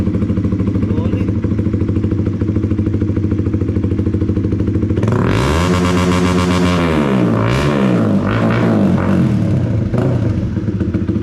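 A Honda CB150X motorcycle with an aftermarket exhaust idles with a loud, throbbing sound, then revs sharply several times in rising and falling bursts, very close and harsh.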